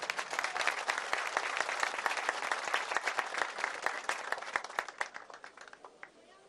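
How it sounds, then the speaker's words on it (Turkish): Audience applause at a welcome ceremony for champion wrestlers in Döşemealtı, Antalya, as a plaque is presented: dense, steady clapping from a crowd that thins and fades out toward the end. "Hep beraber coşkuyla alkışlıyoruz."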